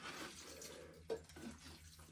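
Water trickles onto the soil surface of a potted indoor fig tree, a steady soft pouring wash with one brief brighter splash midway, close and alone without talk.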